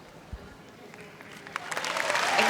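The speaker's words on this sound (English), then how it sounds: "Great applause from the crowd as she walks off." A netball crowd at a Samoa v Fiji play-off breaks into applause as a player walks off court, with clapping that begins sparse and builds into a steady, swelling ovation.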